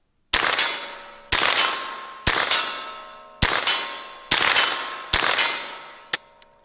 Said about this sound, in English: And let's shoot some steel out there.